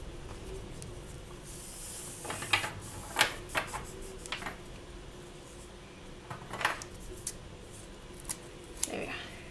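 Scissors trim the end off a polymer clay mokume gane piece, giving a series of quiet, crisp snips in small clusters against a soft background hiss.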